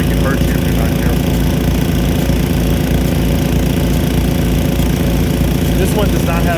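Loud, steady mechanical rattling and whooshing of a Nelson PC-NV100 2-inch Big Gun sprinkler with a .70-inch taper bore nozzle running in fast reverse, a continuous rapid ratcheting close by.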